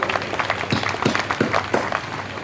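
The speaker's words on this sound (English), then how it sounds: "I hope big applause" Applause from the audience at the ISSF World Cup Final 2024 opening ceremony in New Delhi, a steady wash of clapping with individual claps standing out, continuous throughout at moderate volume.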